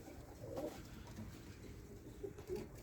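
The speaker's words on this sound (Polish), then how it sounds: "są kolejne gołębie" Soft pigeon coos rise a few times over a low, murmuring background, fairly close and gentle.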